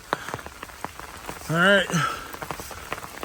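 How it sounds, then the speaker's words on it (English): Steady rain patters on surfaces around a hiker on the Appalachian Trail during a thunderstorm, with scattered close drips. Someone briefly speaks over the rain. "Can't just keep getting on and off just because of a little rain."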